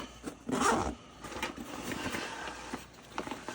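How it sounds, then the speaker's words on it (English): A Mystery Ranch 2 Day EDC backpack's Y-shaped tri-zip main compartment being unzipped, a few short rasping pulls close by with the loudest burst near the start, then quieter tugs. "Getting into the main compartment, you have the Y tri-zip."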